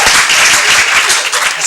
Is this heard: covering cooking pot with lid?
no